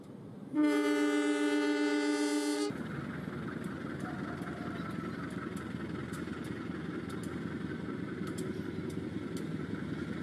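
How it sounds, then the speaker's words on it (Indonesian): A train departs in a radio drama sound effect: a loud, sustained horn blast opens, then a steady rumbling roll of the moving train with faint rhythmic clicks continues. "Kereta api bergerak meninggalkan Surakarta menuju Surabaya."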